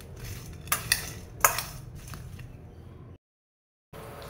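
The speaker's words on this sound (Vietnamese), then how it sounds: "Trộn đều giống như kiểu mình ớp vậy đó" Cucumber pieces tossed with salt in a bowl, with a few sharp clinks of utensil against the bowl and soft scraping, followed by a brief silence.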